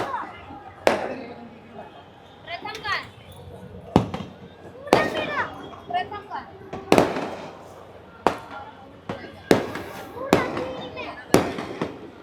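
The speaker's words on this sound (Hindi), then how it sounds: "आतिशबाजी शुरू हो गई है, आप देखिए" Fireworks burst above Jama Masjid in Delhi during an Independence Day evening, a series of sharp cracking bangs at irregular intervals, some near and loud, with crowd chatter and a voice talking between the blasts.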